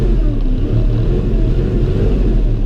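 A Kubota L3560 tractor engine rumbles loud and close in a steady low drone, with its RPMs holding and rising slightly through the clip.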